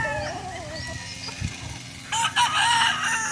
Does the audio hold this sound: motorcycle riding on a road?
no